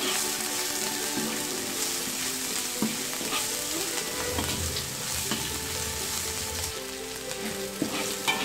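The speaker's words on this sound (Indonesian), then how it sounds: "tumis tumis tumis tumis hingga berubah warna dan harum deh" Stir-frying sizzles steadily in a pan while chilies cook for a green bean omelette, a dense crackling hiss with scraping stir sounds throughout, close and loud, with no talking.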